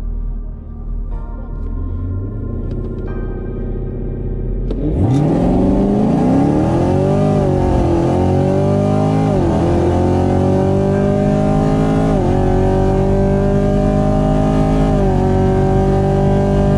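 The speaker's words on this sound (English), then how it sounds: "We just raced a Camaro." Chevrolet Camaro SS engine in a street race, starting as a low idle then surging into a loud, sustained acceleration with rising pitch and several gear shifts, close to the microphone with no talk.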